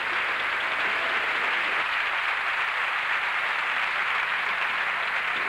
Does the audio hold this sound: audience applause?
yes